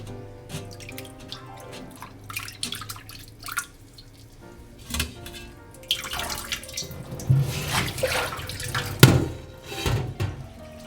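Cooked glass noodles are rinsed under a running kitchen tap, with water splashing and trickling in an uneven, close stream, plus intermittent drips and clatter.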